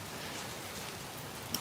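Heavy rainy-season downpour in Phnom Penh, a steady, even hiss of rain falling on surfaces with no talking, constant in level throughout.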